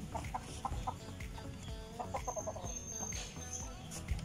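Chickens clucking nearby in short repeated bursts in Bicol, Philippines, with soft outdoor background noise and no speech.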